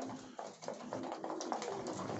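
Pigeons cooing in a loft on a frosty day, soft low repeated coos from a few birds nearby, quiet and continuous, with faint shuffling around them.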